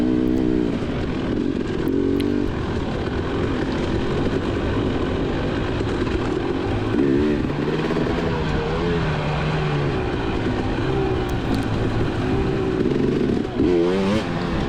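A dirt bike rides the motocross section of a race course at a KXCR round at The Holler in Clay City, Kentucky, its engine droning loudly and continuously, revving up and down close by with wind noise.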